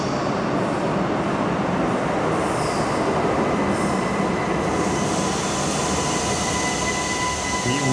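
A U17 U-Bahn subway train pulls into an underground station, giving a loud, steady rumble with thin sustained wheel squeals over it, heard close and continuously with no talking.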